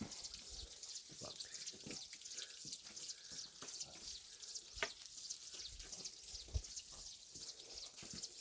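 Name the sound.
mountain water flowing in valley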